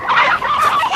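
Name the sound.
chickens clucking in film Angel Heart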